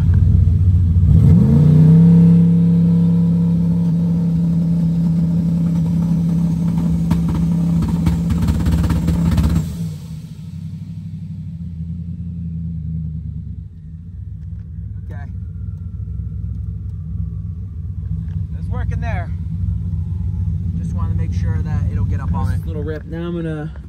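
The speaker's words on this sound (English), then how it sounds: "we're gonna do a quick little two-step check to make sure it's actually getting in boost now" Street race car engine holding a loud, steady rev on a two-step launch limiter, droning for about eight seconds before dropping to a rumbling idle, with people talking faintly afterward.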